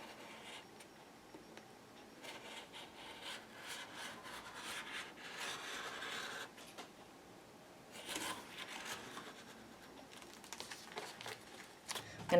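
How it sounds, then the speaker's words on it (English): An X-Acto knife slices through fabric on a cutting mat along a ruler, giving a continuous soft scraping and rubbing with a few stronger strokes, close and fairly quiet. "Bring in a cutting mat and a ruler and an X-Acto"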